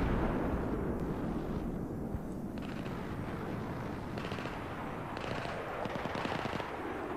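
Dense gunfire and explosions from the video game Battlefield 3 on the Caspian Border map, a continuous rattle of automatic fire and booms that is fairly faint and distant.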